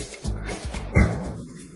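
A dog gives a couple of short barks and yelps, fairly close and moderately loud, with a whimpering tone between them and a quiet background.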